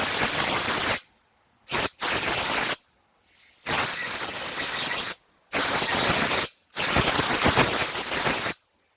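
Compressed air blasts in loud bursts into a cleaned Prius hybrid battery fan housing to dry it, with about five sharp hissing gusts separated by short silences.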